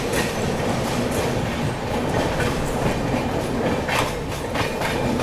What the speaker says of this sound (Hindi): अभी CSMT के आउटर में ये देखो ये शंटिंग चल रही है तेजस के रेक की